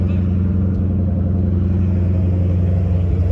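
A car engine idles with a deep, steady rumble throughout, loud and close, with no talking over it.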